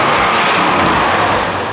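Carbureted engine of an American muscle car revving, a loud, close, sustained roar that holds steady and fades slightly over under two seconds.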